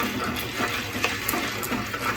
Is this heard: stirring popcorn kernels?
yes